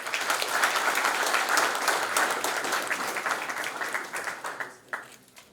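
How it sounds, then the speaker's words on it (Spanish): A room of attendees at an academic forum on a dam project applauds warmly, the steady clapping loud at first and then thinning out and fading to a few scattered claps. "le damos un aplauso a cada uno de ustedes."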